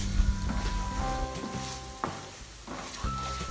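Spice paste with turmeric powder sizzles steadily in a pan while being stirred for an eggplant dish, with occasional scraping stirs over the continuous frying hiss and no voices.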